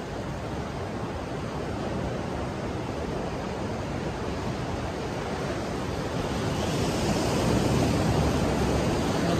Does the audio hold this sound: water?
yes